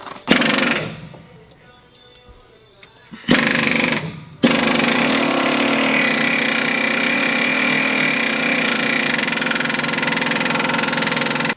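An impact wrench hammers at seized bolts on a 1996 Ford F-250, with two short loud bursts followed by a long, continuous, rattling run close at hand.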